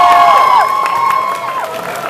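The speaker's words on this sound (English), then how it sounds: "a big round of applause for these amazing cosplayers, amazing artists" A convention hall audience cheers and whoops for cosplay finalists, loud crowd noise with high-pitched shouts over scattered clapping.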